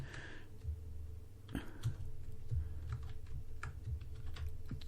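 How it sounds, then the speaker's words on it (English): Keyboard shortcut keys pressed on a computer keyboard during a flight simulator setup: a run of soft, uneven key clicks and taps, fairly close and quiet, with no talking. "So I'm going to do Control V to insert, and using an arrow key"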